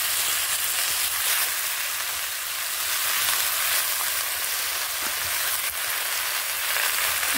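Spinach, eggplant, radish, beans and potato frying together in a pan, giving a loud, dense, continuous hiss of sizzling oil, close and steady, with faint stirring beneath and no talk.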